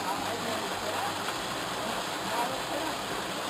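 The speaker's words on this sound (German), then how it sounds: "Und jetzt gibt es hier sogar noch einen Wasserfall." A waterfall rushes steadily along a mountain valley stream off the Pamir Highway, a constant broad hiss of falling water with no breaks, close and fairly loud.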